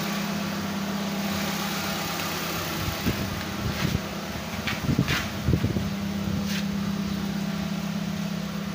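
A car whose repaired computer box has just been refitted idles steadily with an even, low hum. A few scattered knocks and clatters rise over the engine midway, and no one speaks.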